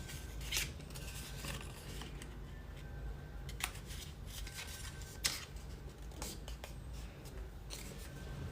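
Paper being cut out with scissors at close range, a steady run of small snips and rustling crinkles with a few sharper clicks, quiet and without talk.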